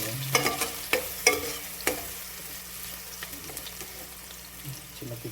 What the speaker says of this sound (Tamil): இப்போ நல்லா வதக்கிடலாம்